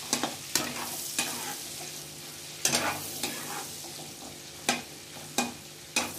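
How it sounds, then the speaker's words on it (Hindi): Seven or eight garlic cloves frying in a pan for restaurant-style paneer butter masala, a close steady sizzle broken by repeated sharp scraping strokes of a stirring spoon. "इसमें हम लोग डालेंगे जो हम लोगों ने लहसुन की कलियाँ रखा हुआ था उसमें से कुछ लहसुन की कलियाँ"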